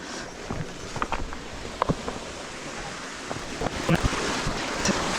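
Continuous rushing roar of a waterfall on a mountain bike trail, with gusts of wind buffeting the microphone and occasional soft thumps.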